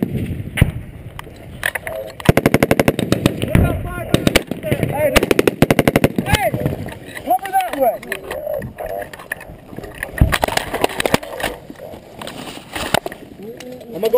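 Machine gun fire rattles in rapid bursts during a firefight against a Taliban ambush position, with sharp repeated shots mixed with shouting voices and movement noise close by.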